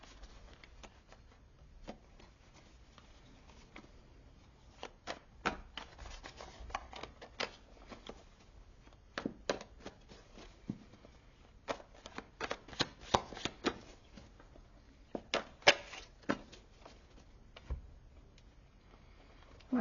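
Tarot cards being shuffled by hand, a soft run of riffling and rubbing pats with sharper flicks scattered throughout, close and fairly quiet, with no talking.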